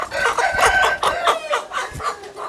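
A parrot-beak, long-tail Aseel rooster in Pakistan lets out close, loud, broken crowing and clucking calls in several quick bursts, with no talk over them.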